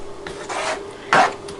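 A small utensil scrapes cooked food together across a frying pan in two quick rasping strokes, the second one louder, close up and with no talk.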